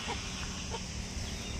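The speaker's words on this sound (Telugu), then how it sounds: "కోళ్ళు ఇక్కడున్నా చూడండి పిల్లలు, ఇవే అవి కోళ్ళు" Chickens cluck softly inside a farm shed among sheep and mango farm surroundings, a few short calls rising over steady background noise, with no speech.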